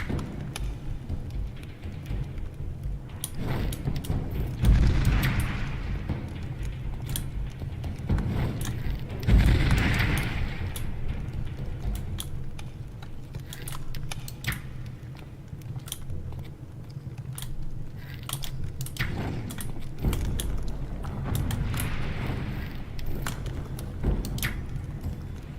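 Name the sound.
weapon firing bolts and reloading in the video game Risen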